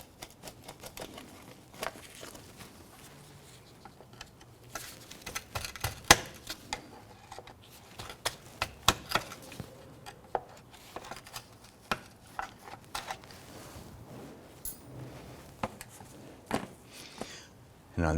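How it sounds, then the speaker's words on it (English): A plastic trim tool pops retaining buttons off the splash shield under a 2008-2012 Honda Accord's engine bay, making a dense run of sharp close clicks and snaps amid scraping handling noise. "We're gonna go ahead and use our trim tool, remove some of the plastic buttons holding one side of this in place."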